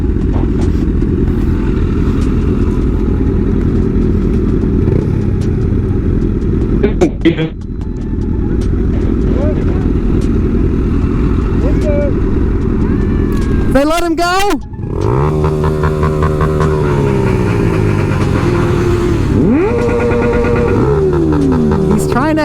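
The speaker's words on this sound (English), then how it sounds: "they're all revving the fuck out of here and you can't hear anything" Several motorcycles rev loudly and repeatedly on a street during a bikelife ride-out, with rising and falling engine whines and roaring throttle blips, while people talk over the din.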